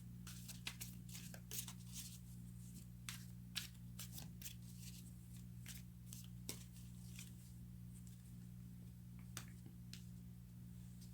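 Tarot cards are drawn from a deck and laid out, producing soft scattered flicks, snaps and papery slides over a low steady background hum, quiet and close, with no talk.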